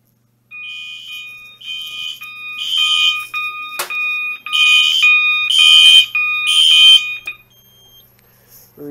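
A smoke detector on a Notifier AFP-200 fire alarm system sounds during a magnet test, giving a loud, piercing, rhythmic electronic tone in repeated pulses, close and clear.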